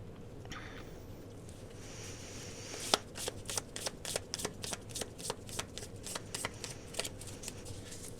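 Tarot cards being shuffled, a steady run of crisp riffling snaps and flicks in quick rhythm over a low background hum, close and fairly quiet.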